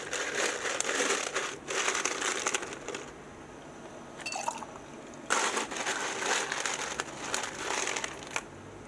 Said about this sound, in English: just keep dropping ice everywhere